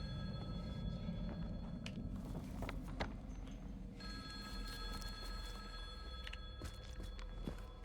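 A telephone rings in the Silent Hill 2 video game, two long electronic rings separated by a pause, clear and fairly close, with footsteps and scattered knocks over a low background hum.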